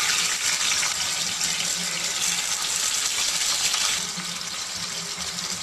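Pieces of catla fish fry in hot mustard oil with a dense, hissing sizzle that holds steady, then eases slightly softer toward the end.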